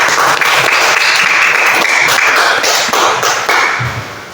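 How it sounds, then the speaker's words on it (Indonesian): A classroom of students claps for a classmate, a loud burst of many small hands applauding in uneven waves that briefly swell and then begin to fade toward the end. "Berarti tepuk tangan dulu buat Amor."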